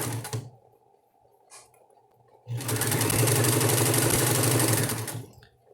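A domestic sewing machine stitching fabric for a double-sided diaper cover: a brief burst of whirring, a short pause, then a long steady run of fast mechanical stitching that winds down near the end, close by.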